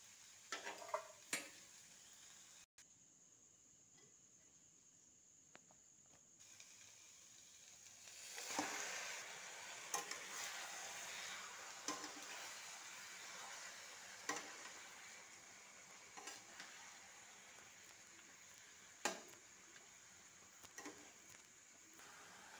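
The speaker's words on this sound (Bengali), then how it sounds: "এবার আমি চিকেনটা এর মধ্যে দিয়ে দেব।" Chicken fries with onions in a pan for chicken kosha, giving a faint, steady sizzle. Occasional light scrapes and clicks come from stirring, and no one speaks.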